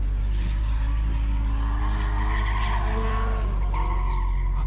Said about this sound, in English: Dan and I are heading out. Using the clutch. So I've noticed the surface at Rayleigh is not ideal for low drift cars